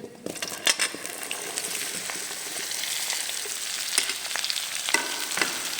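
Okra and onions frying together in a kadai for a do pyaza bhindi dish while being stirred: a steady, close, loud sizzle with scraping stir strokes throughout, and no voices.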